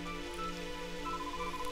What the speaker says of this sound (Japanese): 雨が降ってきた